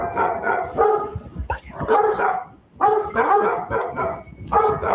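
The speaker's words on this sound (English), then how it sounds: "As they enter, more dogs still barking from inside" Several dogs bark repeatedly inside a building, in loud clustered volleys of barks with brief pauses between bursts, some yips mixed in, close and echoing.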